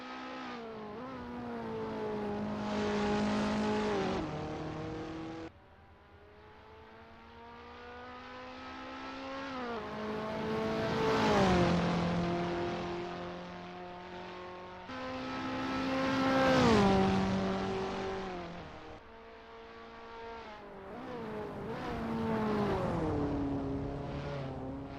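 A KTM X-Bow R race car laps Monza in Assetto Corsa, engine revving up through the gears in repeated rising whines, with dips between shifts and for braking, loud and alone with no voices.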